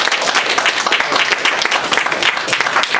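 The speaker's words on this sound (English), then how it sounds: "Ladies and gentlemen, big round of applause for our panel." A live audience gives a panel a big round of applause, loud dense clapping close by that holds steady for the full three seconds with faint crowd noise mixed in.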